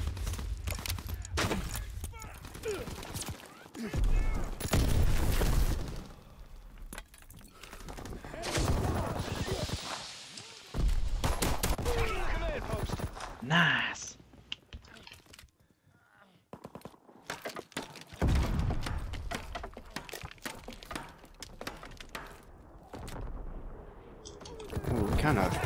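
Bursts of gunfire from a WWII-era shooter video game, including shotgun blasts, crackle through busy game action, with a player talking excitedly over much of it.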